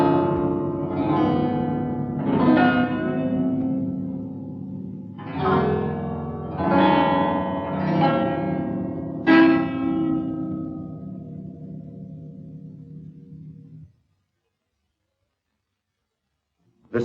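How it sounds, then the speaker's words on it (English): A 72-string kithara played with glass rods: resonant plucked and bowed-sounding string tones ring out in sustained, chordal swells with long decay, ending in silence. "the kithara, with 72 strings of equal length, arranged in chords and with glass rods for playing higher tones"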